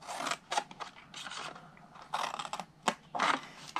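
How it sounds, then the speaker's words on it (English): Scissors make repeated crisp snips as they cut straight through cardstock for a Halloween gift box, with several cuts separated by short pauses. The snips sound close and clear, and there is no talking. "cut the side of this rectangle straight to the first score line"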